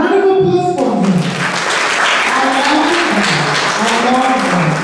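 Studio audience applause during an online talk show rises as a steady wash of clapping, running throughout with a voice speaking over it.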